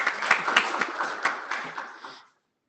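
Audience applause at an IETF 120 working group session, a moderate burst of scattered clapping lasting about two seconds before cutting off abruptly.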